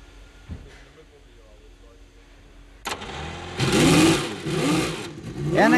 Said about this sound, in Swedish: Bilar som startas med tryckluftsaggregat.